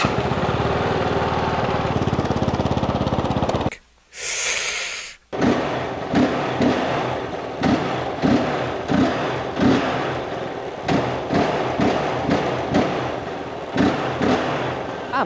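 A 2024 KOVE 450 Rally motorcycle engine cranks briefly, then catches and settles into a loud, steady idle with rhythmic pulsing, close by.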